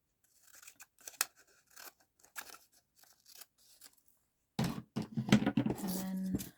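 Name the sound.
scissors cutting acetate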